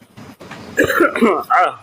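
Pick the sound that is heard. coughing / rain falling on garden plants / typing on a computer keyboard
coughing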